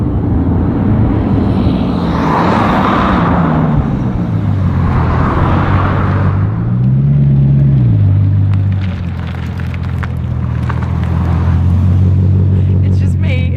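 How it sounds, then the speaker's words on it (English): Bugatti Chiron Sport driving, its engine and turbos giving a loud, continuous low roar with rising and falling pitch sweeps as it accelerates, steady throughout with no talk. "The special part is really when you're driving it and you hear the turbos."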